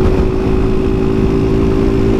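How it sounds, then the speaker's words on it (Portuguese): Motorcycle engine sputtering and struggling near stalling, a close, uneven low chugging with a steady drone and no talk over it. "Ixi, minha moto. A moto querendo parar."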